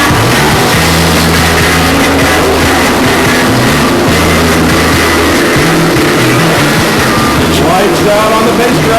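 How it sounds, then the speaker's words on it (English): Race car engines at a speedway rumble and rev together in a loud, continuous roar with throbbing low pulses, the din holding steady throughout. "then we'll ask you guys to help us get these engines lit up"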